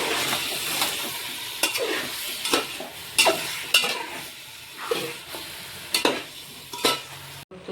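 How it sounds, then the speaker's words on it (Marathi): Chicken frying in masala sizzles steadily while a spoon stirs and scrapes the pan in repeated knocks for chicken biryani. The spoon strokes are close and irregular. "सगळा मसाला चांगलाच परतून घेतला आता यात आपण चिकन सोडू"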